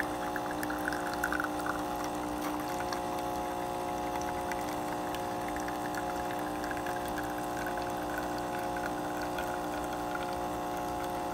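A Saeco Intuita espresso machine pulls a shot: a continuous pump drone with steady liquid pouring and a faint mechanical hum, unbroken for the whole stretch with no voices.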